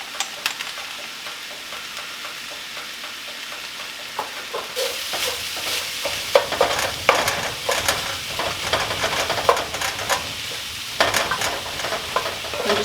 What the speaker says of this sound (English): I'm just going to stir these all together